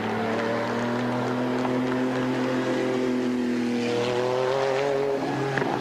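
A 1995 GT2 Porsche race car circles the banking at the Linas-Montlhéry circuit, its engine holding a steady, sustained drone at high revs with a slight pitch shift near the end, loud and continuous with no voices.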